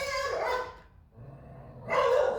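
A dog barks in two loud bursts separated by a quieter pause, close and prominent, with no talking.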